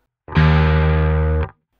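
A single sustained, heavily distorted bass guitar note in a black metal style rings out loud and alone for just over a second, then cuts off abruptly.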